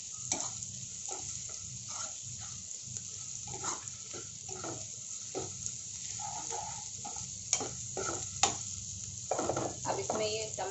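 Ginger garlic paste frying in a pan for a dhaba-style paneer curry, with steady low sizzling and scraping stir strokes, occasional sharper clinks of the spoon against the pan, close and continuous with no talk.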